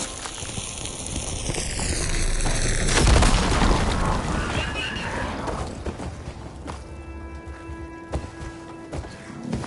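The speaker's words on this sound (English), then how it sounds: "Should be able to blow up that fire blade." A fire blade explodes in the game Horizon Forbidden West, a deep booming blast that swells into rumbling, crackling fire and mechanical clatter, then fades under lingering game ambience.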